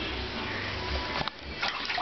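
Water sloshes and splashes in a bathtub as a pet is washed, a continuous close wash of running water with a few sharper splashes.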